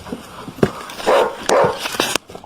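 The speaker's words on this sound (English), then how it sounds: "Yeah, give me those barks." A dog barks in a few loud, close bursts with a short yip and whimper between them, heard alone without talk.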